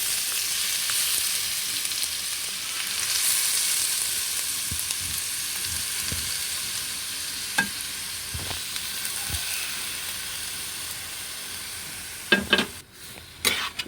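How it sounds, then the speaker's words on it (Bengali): Carrots for gajar halwa fry in ghee in a wok, giving a steady, close sizzle and hiss, with occasional scrapes and knocks of stirring near the end. "গাজরগুলোকে আমরা এইভাবে আস্তে আস্তে করে একটু ভেজে নেব প্রথমে"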